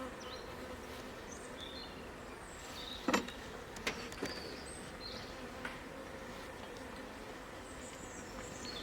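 Honey bees hum steadily around a hive in shaded woodland, a faint continuous drone with a few individual bees buzzing past nearby and a couple of brief knocks partway through, no talking.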